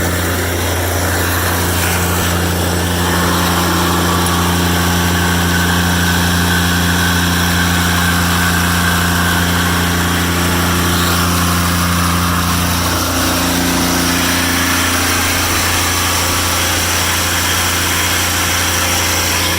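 A 1984 Cub Cadet 882 diesel garden tractor engine running at a steady idle, a loud, continuous low drone with a constant tone and no talk, close by for the whole stretch.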